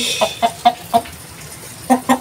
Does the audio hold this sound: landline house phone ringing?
no